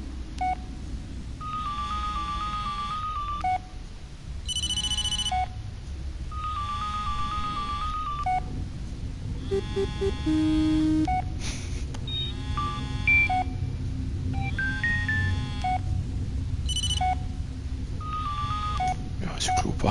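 Phone ringtone previews play one after another in a settings menu of the Blair Witch video game, short repeating electronic melodies and beeps separated by brief pauses, with a voice talking underneath.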